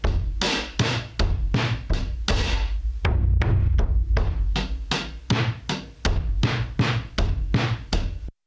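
A drum groove loop runs through a dark compression plugin in Pro Tools, with steady, evenly spaced punchy hits over a thick, booming low end and a dense, squashed sustain, heard alone without any voices.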